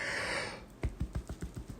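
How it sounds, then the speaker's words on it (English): A person gives one long, breathy morning yawn up close, followed by a run of quick computer keyboard clicks. "I don't know why I'm yawning so much this morning"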